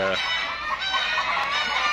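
Free-range desi hens on an egg farm cluck and call in a steady, busy chorus close by, with no one talking.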